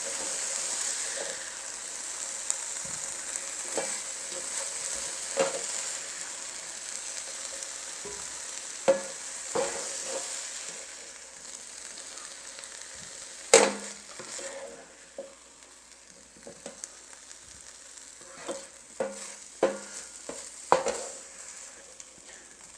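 Cooked pork for enchiladas is lifted out of a fry pan into a bowl against a steady bright sizzle, with scattered sharp clicks and scrapes of a utensil on the pan, close and fairly quiet.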